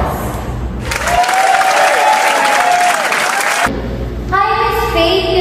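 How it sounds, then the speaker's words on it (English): An audience breaks into loud applause to welcome a guest at a workplace talk. The steady clapping lasts about three seconds before fading into room noise, and a voice follows. "Please give her a round of applause."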